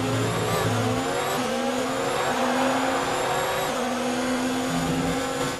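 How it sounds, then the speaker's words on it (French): An F1 2019 car in the video game runs at the United States Grand Prix under steady, loud engine whine, with a sustained tyre squeal from wheels locking under braking. It sounds continuous, with no voices. "On bloque les roues une nouvelle fois."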